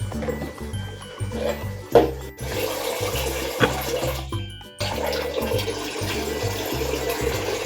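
A small girl bathing alone in a bathroom, with running and splashing water sloshing steadily close by, broken by a few brief gaps and sharper splashes.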